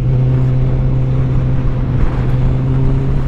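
A Kawasaki ZX-14R motorcycle engine drones loud and close at a steady high pitch, a constant powerful hum with wind rush over it.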